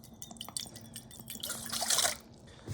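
Rice vinegar pours into a spare rib marinade along with soy sauce, giving a soft trickling, dripping liquid sound that swells into a brief splashy stream near the end, close and fairly quiet with no talk.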